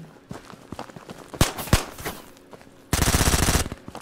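M4 carbine gunfire in the shooter game Ghosts of Tabor: a few scattered single shots and footsteps, then a loud, rapid automatic burst close by, with no talking.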